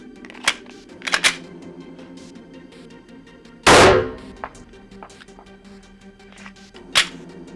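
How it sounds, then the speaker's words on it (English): A single loud gunshot fired from 10 feet into the upper left panel of a IIIA soft body armor vest with no trauma pad, one sharp crack standing out among quieter scattered clicks and handling noises. "One round on the upper left-hand panel at 10 feet with no trauma pad."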